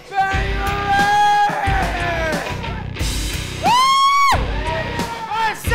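Fitness class members let out a loud rebel yell together, rising whoops and hollers overlapping in a crowd, close and energetic with repeated swelling shouts.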